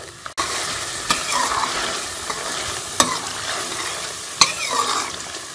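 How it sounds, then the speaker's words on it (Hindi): Masala spices for a fish curry fry in a pan with a continuous close sizzle, broken by a few sharp scrapes as a spoon stirs them. "हम मसाले को अच्छी तरह से भून लेंगे।"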